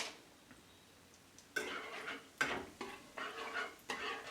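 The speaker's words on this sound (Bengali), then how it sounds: "এটা 1 সেকেন্ড আমি নেড়ে নেব" Cumin seeds hit hot oil and ghee in a pan for matar paneer, crackling in bursts that grow louder after a quiet start, with scraping stirs between the sizzles and no talk.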